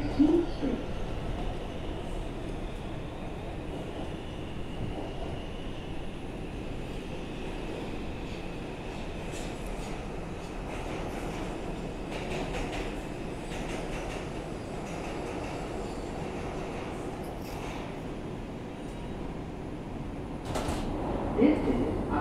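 Bronx-bound R142 subway train on New York's 2 line rolls steadily between stations, a continuous close rumble with rattling car noise and occasional faint squeals, loudness rising slightly at the start and end.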